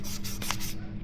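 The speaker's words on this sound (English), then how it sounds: "so you wet sand it and it'll keep all the crap out" Wet sanding a scratched polycarbonate Insta360 dive case: a few quick, close rubbing strokes of wet abrasive scrubbing across the plastic in a steady back-and-forth rhythm.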